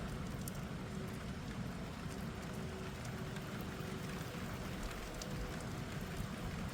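Steady soft rain patters continuously on a surface, faint and even throughout with no voices.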